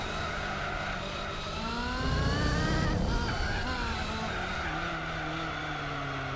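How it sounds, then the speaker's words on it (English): A race car engine in Gran Turismo 4 screams at high revs, its pitch climbing and dipping through gear changes, with a brief burst of tire skid in the middle, loud and continuous. "You can hear the revs on the engine where it's not quite planting the power though"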